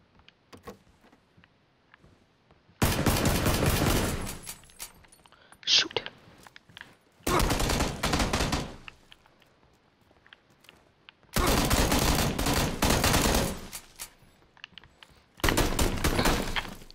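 Gunfire in PUBG comes in four sharp, loud bursts of rapid automatic shots, separated by near-silent pauses with faint footsteps and movement.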